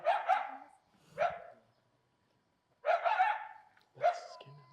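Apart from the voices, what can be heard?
coyotes barking at night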